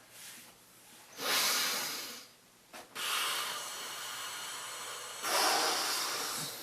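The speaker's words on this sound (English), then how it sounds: "Quit breathing so heavy." Heavy nasal breathing, close and loud, in long hissing snorts: roughly three drawn-out breaths with quieter gaps between them, and no talking.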